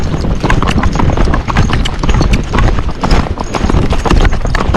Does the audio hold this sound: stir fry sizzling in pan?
no